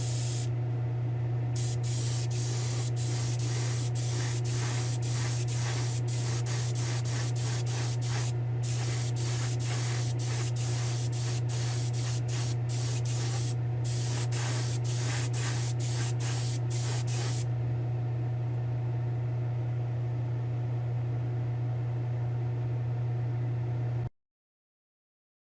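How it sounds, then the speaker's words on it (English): Spray gun applying clear coat to a 1957 Corvette in a spray booth, hissing in repeated bursts over a steady low hum, the spraying stopping partway while the hum continues, then everything cuts out. "give this the final clear coat"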